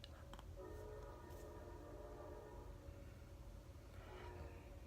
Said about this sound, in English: That train is really being annoying.